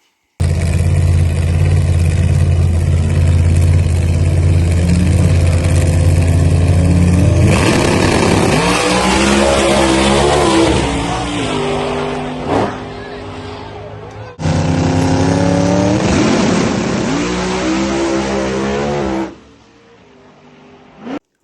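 An outlaw drag race car at the Kool April Nights West Coast event idles with a deep, loud rumble, then launches into hard revving sweeps through gears before cutting off near the end.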